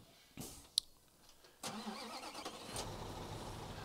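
A truck engine starts in the Construction Simulator 15 video game, with a click, a sharp cranking burst and then a steady idle rumble settling in close by.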